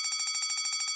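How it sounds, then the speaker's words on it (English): A courthouse intruder alarm sounds with a fast, steady, high electronic pulse repeating about a dozen times a second, loud and continuous with no voices. "So eventually the alarm counts down, and then it starts sounding."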